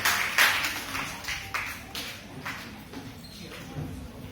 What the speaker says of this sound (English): So please applaud all the presenters.